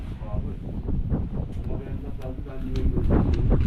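Wind gusts across the microphone at a building project site, a loud, continuous low rumble with roughness and buffeting, while people talk faintly underneath.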